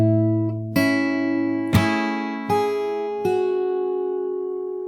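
Fingerstyle acoustic guitar plays a melody slowly: five separate plucked notes and chord strikes over a ringing bass, each left to sustain and decay, close and clear with no voice.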